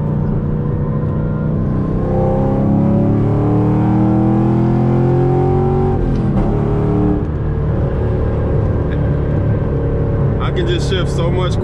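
A 2013 Camaro 1LE with a stage 3 clutch and short-throw shifter revs up loudly, pitch climbing and dropping through several quick gear shifts, then settles, with a voice briefly over it at the end.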